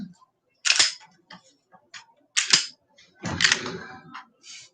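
A handgun is unloaded and made safe up close, producing a handful of sharp metallic clicks and clacks from the magazine and slide, separated by short quiet pauses.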